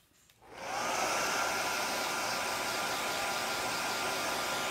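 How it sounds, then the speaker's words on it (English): After a brief quiet moment, a hair dryer switches on and blows with a steady, loud, close whooshing roar that holds evenly until the end. "let me get my hair dryer"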